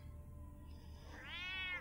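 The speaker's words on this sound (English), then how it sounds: "Cat just came in hissing." A cat in Batman: The Telltale Series gives a single drawn-out, rising and falling meow over a low background hum, fairly close and alone.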